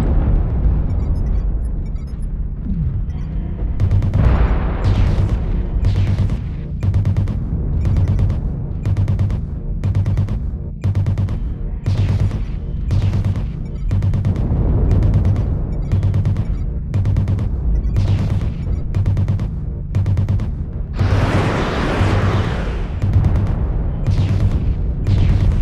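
Machine guns on a Locust mech in a video game fire in a long run of rapid bursts, loud and close, with short gaps between bursts over a continuous low rumble.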